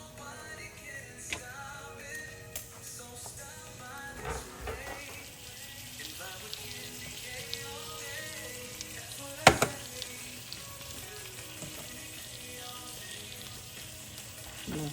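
Chopped tomato and its juices sizzle and fry in a hot pan while a steak dinner is made, a steady crackling hiss with scattered pops and one sharp spike midway, close and fairly quiet.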